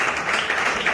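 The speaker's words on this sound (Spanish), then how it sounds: "Un aplauso al Señor." A church congregation at a worship service claps together in a brief, steady burst of applause, full and close, with no voices over it.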